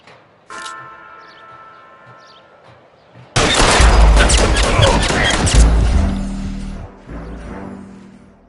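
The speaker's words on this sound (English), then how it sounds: "All units, shots fired" Gunshots in the L.A. Noire crime game, a loud sudden fusillade of cracking shots with crashing impacts that bursts in after a quieter stretch and dies away near the end.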